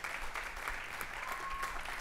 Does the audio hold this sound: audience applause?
yes